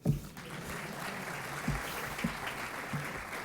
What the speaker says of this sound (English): Before that, you can clap for me.